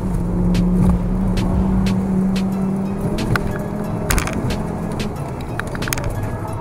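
A Honda S2000 in a full four-wheel slide on a canyon road during a group run, with loud steady road and tire roar, engine drone, and sharp crackling bursts scattered through.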